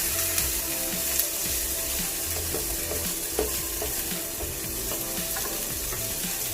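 Diced carrots, corn and peas stir-frying in a hot wok for Yangzhou fried rice: a steady, close sizzle broken by scraping and clattering stirs throughout.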